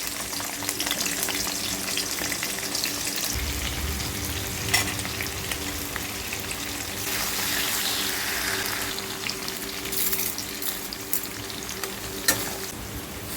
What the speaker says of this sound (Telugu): ఆయిల్ అయితే కాగింది ఇప్పుడు ఉల్లిపాయలు వేసేస్తుంది